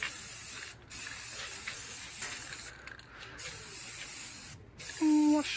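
A spray paint can hisses steadily as it coats a garage door, in long continuous bursts with brief pauses, close and loud, and a short tonal squeak near the end.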